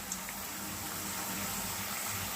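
Raw potato slices for chips frying in bubbling oil, giving a constant, close, even hiss and fizz of bubbles with no voices.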